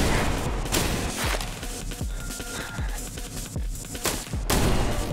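Gunfire in the first-person shooter I Am Your Beast: a rapid run of sharp, punchy shots, some close together, with a few heavier booms, loud and close, and no talking over it.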